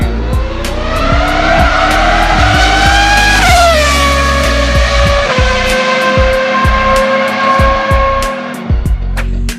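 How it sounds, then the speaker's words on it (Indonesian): A screaming high-revving F1 V10 or V12 racing engine howls loud and close, its pitch climbing and dropping through rapid gear changes with sharp crackling shifts, with no talk. "Padahal mesin F1 V10 atau V12 itu sangar banget"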